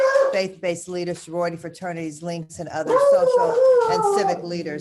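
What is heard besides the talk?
dog howling and barking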